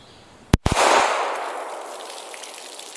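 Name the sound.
9mm hollowpoint gunshot from an auto-loading handgun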